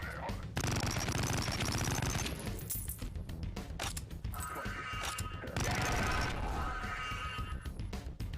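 A weapon in the retro shooter Project Warlock fires in rapid, dense volleys with crashing impacts, loud and nearly continuous, broken by a few brief pauses between bursts.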